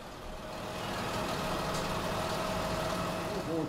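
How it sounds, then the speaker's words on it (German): Expensive tractors roll in at a farm auction, giving a steady, close engine rumble that builds slightly and holds through the moment. "Die teuren Traktoren rollen an."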